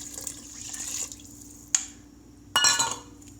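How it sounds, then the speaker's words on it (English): Water is poured into an Instant Pot over a vegetable pulao paste, a gentle trickling splash that fades, followed by a sharp clink and a brief louder splash near the end, with no talk. "then I'm going to add twice the amount of water in here at first"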